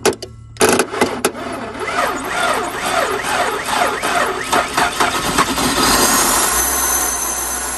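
An abandoned car's engine cranks after a little fuel is added, with several sharp bursts before it catches and runs in a loud, rough, uneven drone until the end, alone with no talk.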